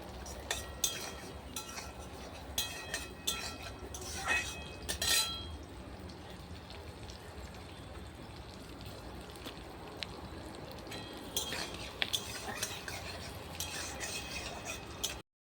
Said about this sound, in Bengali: পেঁয়াজটা লঙ্কাটা ভালো করে একটু ভেজে নেবো